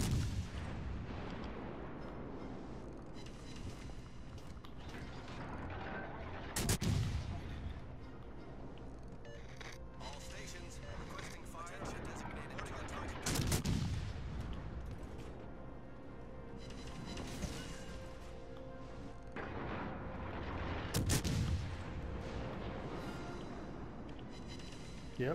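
Video game boat battle with heavy, booming gunfire: three big blasts spaced several seconds apart rise above a dense, continuous roar of engine and battle noise, with no clear talk.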